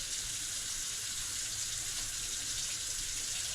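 Tap water runs steadily while a muskrat hide is rinsed, a faint, even hiss of flowing water that carries on without a break.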